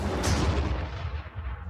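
A tank fires in the Warhammer Armageddon video game, one heavy, booming cannon shot that hits hard and then rolls off into a fading rumble, with no talk over it.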